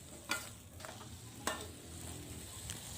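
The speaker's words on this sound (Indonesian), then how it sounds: "Kemudian aduk-aduk semuanya agar cabainya ini juga layu dan matang ya teman-teman." Green beans and curly green chilies are stir-fried in a pan, with a soft constant sizzle broken by a few sharp scrapes of the spatula against the pan. No one speaks.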